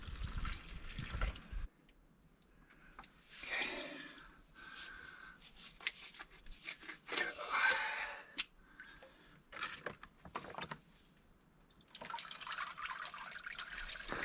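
Water trickling and splashing into a Gatorade bottle from a murky canyon pothole in the Mojave desert wilderness, close by and uneven, with brief pauses and a quieter stretch partway through.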